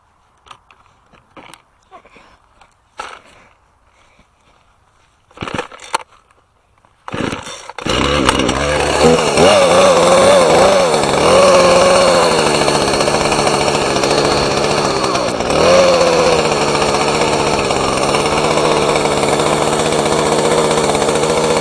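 An old small engine sits quiet for a few seconds with scattered handling clatter and pull attempts, then starts and runs loud and steady nearby with a rough, buzzing drone through the rest.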